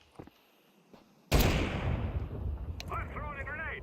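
A grenade blows up in Counter-Strike 2 with a sudden loud boom and a rumbling tail that fades slowly, after a few faint earlier clicks, with a voice speaking over the end.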